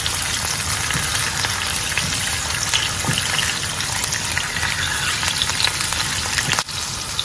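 Pink salmon sizzles and crackles steadily in hot frying oil, with a soft thud and splash near the end as the piece is flipped over in the pan.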